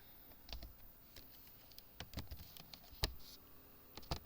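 Code is typed on a computer keyboard in VS Code, with irregular clusters of crisp key clicks and a few louder keystrokes over a quiet room, no speech.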